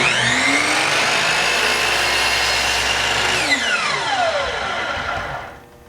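A power saw, such as a chop saw, whines loudly through a cut and then spins down, its pitch falling steadily as the blade slows to a stop, close and continuous with no talking.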